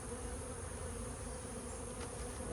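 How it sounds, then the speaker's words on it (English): Swarm of honeybees clustered on a tree, a dense continuous buzz holding steady throughout, close and moderately loud with no voices. "All these bees are hanging out."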